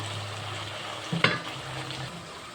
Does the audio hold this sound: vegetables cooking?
yes